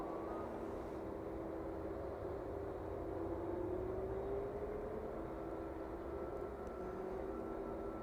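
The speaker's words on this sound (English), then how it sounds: ".767 making its way down on the taxiway then, and just about to make its way past the Ryanair service" Boeing 767 taxiing slowly at East Midlands Airport, a steady engine hum and whine with a faint rising tone, continuous and moderately distant throughout, no voices.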